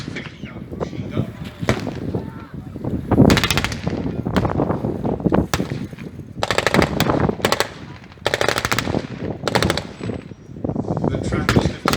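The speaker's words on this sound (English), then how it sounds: "The MG42 firing, they are scoring hits on the soft American vehicles, on the Jeep, Dodge." Bursts of MG42 machine gun fire during a live tank display at Tankfest 2022, aimed at soft-skinned American vehicles such as a Jeep and a Dodge weapons carrier. Several loud, rapid rattling bursts are separated by short gaps, with crowd and announcer talk underneath.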